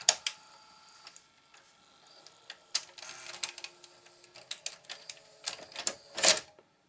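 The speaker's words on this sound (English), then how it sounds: "Now I hit eject." A broken VCR, since repaired, ejects a tape with a series of sharp mechanical clicks, clacks and whirring, irregular and close, ending in a louder clatter as the cassette comes out.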